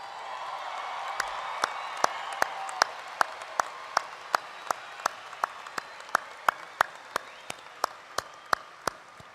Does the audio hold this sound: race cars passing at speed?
no